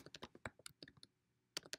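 Typing on a computer keyboard: quick irregular clusters of close, crisp key taps, a short pause, then another burst of keystrokes, quiet overall with no talking.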